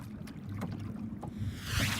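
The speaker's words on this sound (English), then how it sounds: "My engine is running backwards right now." Small remote-controlled electric motor on a kayak with outriggers running in reverse, a steady low hum over water and wind noise as the boat picks up sternway, swelling slightly louder near the end.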